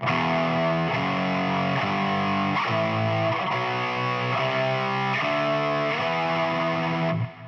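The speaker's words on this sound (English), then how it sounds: "If you played the entire scale with power chords, it would sound like this." Heavily distorted electric guitar playing power chords step by step up a scale, each chord ringing evenly with a thick, buzzing tone.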